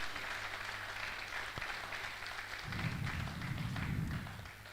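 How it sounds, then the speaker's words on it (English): An audience at a valedictory programme honouring a retiring ophthalmology professor claps, a fairly quiet, steady patter of hands with a low rumble of movement or handling partway through. "Let's give a round of applause for that"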